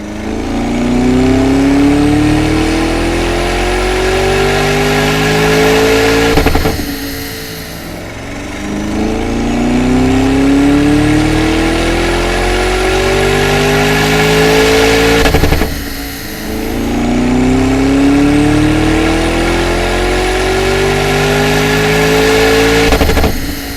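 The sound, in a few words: Lamborghini engine revving on a dyno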